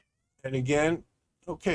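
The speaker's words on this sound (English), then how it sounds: "that's the cat that lives here." A cat meows loudly and close by, two calls with a short pause between them, and a voice speaks briefly around them.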